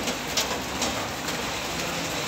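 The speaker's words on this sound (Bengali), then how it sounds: "বৃষ্টির ফোঁটাগুলো তোমরা লক্ষ্য করো, বেশ বড় বড় ফোঁটা করছে, আর বৃষ্টির আওয়াজ তো তোমরা শুনতেই পাচ্ছ" Heavy rain with large drops pours down steadily during a sudden downpour on an election day, a dense and even hiss of drops striking the surfaces nearby, with no voices.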